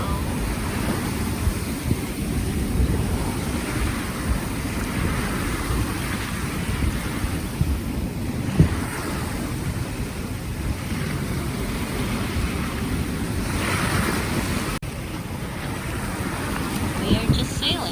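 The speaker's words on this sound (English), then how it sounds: "We are just sailing. No motor." A sailboat under sail at sea without its motor, with continuous wind rush, buffeting against the microphone and the wash of waves against the hull throughout.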